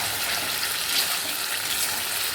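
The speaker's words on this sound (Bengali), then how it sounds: "মশলাটা ভালো করে কষতে হবে" Spice paste with chili powder and salt sautéing in hot oil, a soft, even hiss of frying that stays faint and continuous without any talk.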